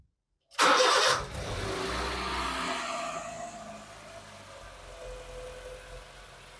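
A car engine cranks and catches after a manual transmission fluid change with Amsoil 5W-30, gear in neutral, bursting loudly to life before settling into a steady, quieter idle with no talking.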